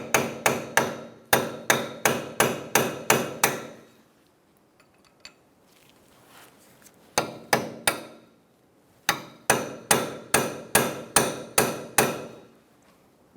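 Metal hammer blows striking to unpin the front axle nut on a 2014-2019 Kia Soul during a wheel bearing job, ringing in two fast runs of about eight evenly spaced strikes each, separated by a quiet pause with faint shuffling.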